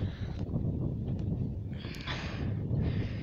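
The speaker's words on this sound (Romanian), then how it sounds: "se aude doar vântul." Wind rushes past during a bicycle ride on a sunny, cold day, a steady low rumble of buffeting with faint hiss, no speech.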